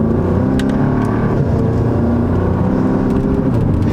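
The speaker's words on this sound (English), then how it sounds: "now the valves will close in the exhaust, making it, well, almost quieter than stock" Audi S3 8V sedan with an EA888 engine and a Stone Valvetronic catback exhaust, valves closed, gives a steady, muted low drone with soft harmonic layers, close and even throughout, with no revving.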